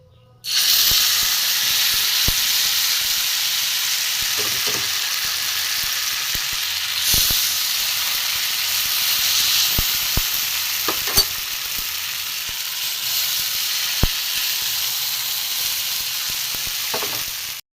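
Fish omelette mixture of beaten egg and fish frying in hot oil in a pan, a loud steady sizzle and hiss that runs close and unbroken, with a few clinks and scrapes of stirring on top and no talking.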